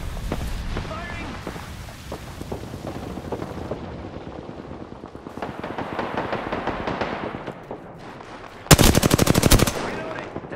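Machine gun fire in Apex Legends, with rapid rattling bursts throughout and one very loud sustained stream of shots near the end, heard with wind and other game noise and a voice speaking.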